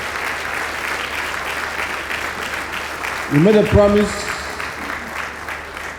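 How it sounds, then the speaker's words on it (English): An audience at a ceremony presenting degree holders applauds the Governor of Bayelsa State, with steady clapping throughout and a voice briefly speaking over it midway. "Another round of applause for His Excellency the Governor."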